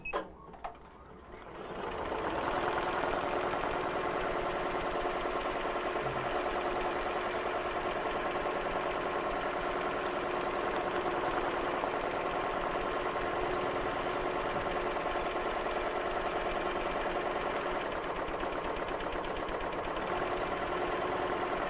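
An embroidery machine stitches a puff foam design onto a hat, running as a steady, loud, continuous high-pitched whirring drone after a brief start-up, with no talk over it.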